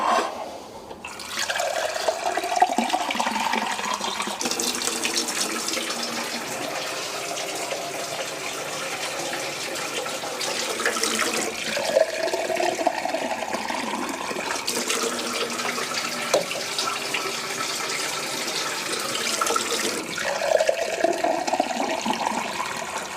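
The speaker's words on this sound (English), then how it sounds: "let's just add some water." Tap water runs steadily into a cooking pot for soup, a continuous close splashing rush with small shifts in pitch as the pot fills, heard alone without talk.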